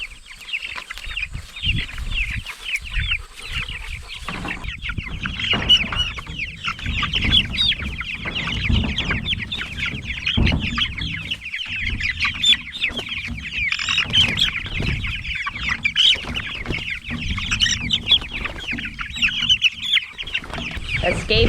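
Chickens in outdoor pasture pens cluck and chatter continuously, a dense flock of overlapping calls heard close by, with a few soft thumps and rustles beneath.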